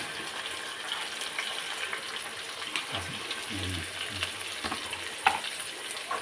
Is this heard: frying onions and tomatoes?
yes